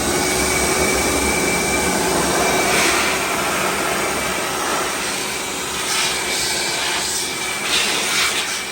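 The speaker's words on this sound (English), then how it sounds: "I would say run the vacuum at the same time." A vacuum cleaner runs continuously near a malfunctioning, leaking Whirlpool refrigerator, giving a loud, steady whooshing drone with slight shifts in pitch and no speech.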